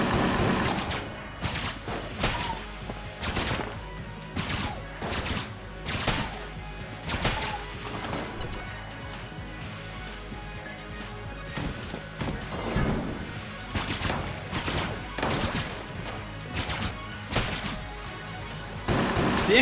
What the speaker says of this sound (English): they fire these homing shots that you can't really seem to get rid of